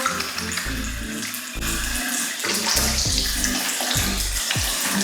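Tap water runs steadily into a bathroom sink while a face is rinsed, splashing and gurgling in irregular bursts as hands scoop and drain, close and fairly loud with no talking.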